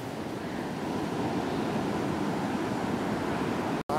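Ocean surf washes steadily onto a Costa Rica beach as a continuous broadband rush with wind on the microphone, cut off abruptly near the end.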